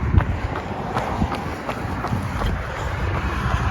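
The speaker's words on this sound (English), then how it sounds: "Heading out for 4 mile run number 2." Running footsteps thud steadily at the start of a 4-mile run while training for the 4x4x48 challenge, an even stride pattern under constant wind buffeting on the microphone.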